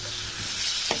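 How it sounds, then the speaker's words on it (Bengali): Chicken skin frying in oil with taro stolons, a steady close sizzle with a soft spoon stir near the end, no talking. "এটা কষতে কষতে এটা কিন্তু অনেকক্ষণ ধরে কষতে হবে, যাতে এটা খুব সুন্দর একটা সেন্ট বেরোয়, বাইরে থেকে তেল ভালোভাবে ছেড়ে দেয়"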